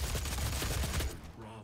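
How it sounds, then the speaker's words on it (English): Rapid machine gun fire in a first-person shooter video game, dense bursts of shots loud and close for over a second before dropping off into quieter game sounds. "Machine gun!"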